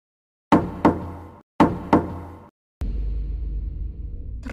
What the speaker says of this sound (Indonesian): Ia mengetuk pintu kayu jati itu.